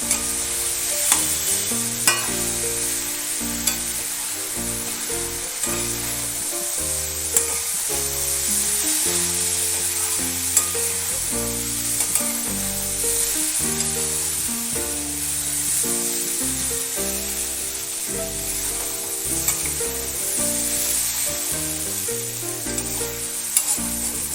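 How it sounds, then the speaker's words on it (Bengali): Spice paste with a little chili powder fries in a pan while being stirred for a fish-head and radish dish, a constant close sizzle with spattering and scraping under steady melodic background music. "এবার মশলাটা ভালো করে কষে নেবো"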